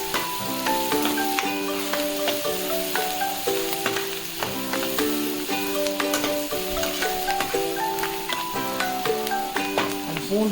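Garlic and onion frying in a pan for a ground prawn-head curry, a continuous close sizzle with crackling pops over a steady hiss, no talking.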